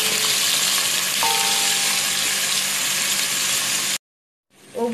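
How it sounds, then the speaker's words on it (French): Onions frying in hot oil for an Ivorian tomato sauce, a steady loud sizzle that holds for about four seconds, then cuts to silence before a fainter sizzle returns. "Une fois l'huile bien chaude, je vais y ajouter les oignons"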